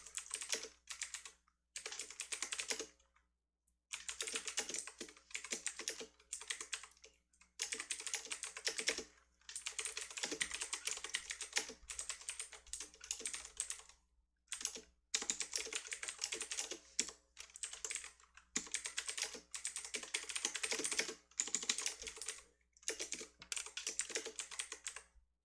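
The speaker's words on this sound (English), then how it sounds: "Sorry for my loud typing, by the way. It's just my keyboard." Loud typing on a computer keyboard, bursts of rapid close key clatter separated by short pauses, continuing alone without talk.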